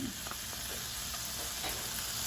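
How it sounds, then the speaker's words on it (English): A lemon-honey pan sauce sizzles softly in a hot pan while being stirred and scraped, a faint, steady crackle throughout. "start to stir that and bring up all of those brown bits from the bottom of the pan"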